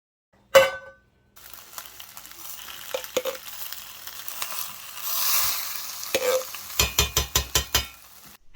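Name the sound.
chili and refried beans heating in a pan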